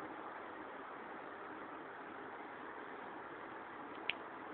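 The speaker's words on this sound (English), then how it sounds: "Now we are going to start this engine." A small engine on a homemade suitcase vehicle runs steadily, a faint even droning hum with one brief click near the end.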